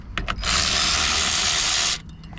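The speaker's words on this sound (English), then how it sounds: "we're going to go ahead and back these bolts off" Sustained whirring of a power tool, likely an impact gun, backing off bolts on a 1998 Mustang Cobra during a rear suspension install, loud and steady for about a second and a half after a few short clicks, with no talking.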